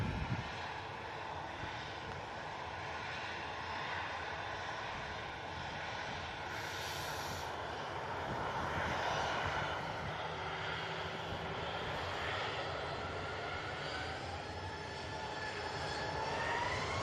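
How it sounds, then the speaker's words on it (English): An easyJet airliner arriving at Manchester Airport, its engine roar a steady, broad wash held at moderate level throughout, with no talk over it. "Just had an EasyJet arrive."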